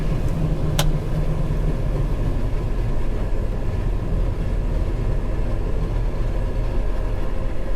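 A 4650 tractor engine runs with a constant heavy, loud droning rumble throughout, with a brief sharp click near the start.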